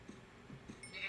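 A gray sheep in the Minecraft video game bleats softly in a short, faint series of wavering baas, distant and alone.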